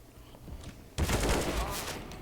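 Rapid machine-gun fire in the video game CS:GO bursts in suddenly after a quiet stretch, a dense loud fusillade of overlapping shots that fills the rest of the moment.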